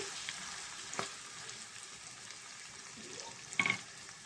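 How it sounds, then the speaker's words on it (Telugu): Onions fry in a pan for a fish curry with raw mango, a faint, soft sizzle with a few light stirring clinks and scrapes. "ఉల్లిపాయ బాగా ఫ్రై అయ్యింది కదండి"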